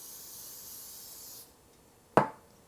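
Cooking spray is sprayed onto chicken breast in a short, close, steady hiss lasting about a second and a half, followed by silence and a single sharp knock.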